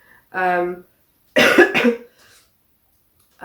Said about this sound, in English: I have got a bit of a cough, so sorry